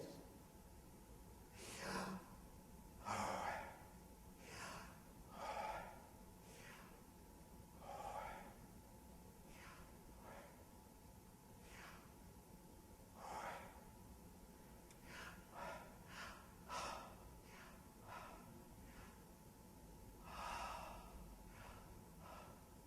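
Slow, audible breaths in and out recur as soft airy swells with long pauses, quiet and close against a faint background hiss.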